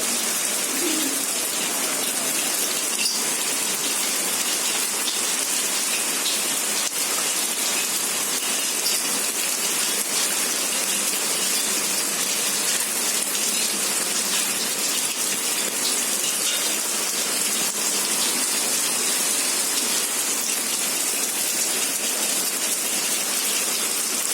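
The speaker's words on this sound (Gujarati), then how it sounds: "ફાઇનલી શંકુસરમાં વરસાદ આજે પડે છે." Heavy rain pouring down in Shankusar, Gujarat, in a steady, dense hiss that stays constant throughout, with no voices.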